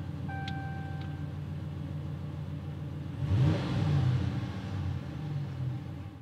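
A 2018 RAM 1500 Harvest Edition pickup is started: a few dashboard chimes sound first, then the engine cranks and catches with a loud surge, and it settles into a steady idle rumble.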